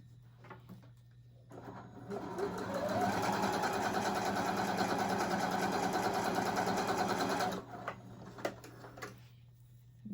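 A beginner sewing machine stitches a hem through fabric in one steady, fairly loud run lasting about five seconds, with quieter handling noises and brief pauses before and after.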